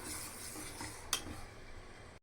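Stirring milk and carrots in a cooking pot, a soft continuous scraping and swirling with one brief clink of the utensil against the pot, heard alone and fairly quiet.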